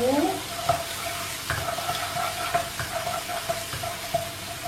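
Crushed garlic and ginger sauté in hot oil, crackling in a loud, continuous sizzle punctuated by the clinks and scrapes of a stirring utensil.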